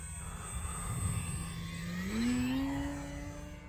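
An Arrows Husky RC model airplane drones overhead with a steady engine whine that rises in pitch midway as the throttle opens, then holds, moderately loud and distant.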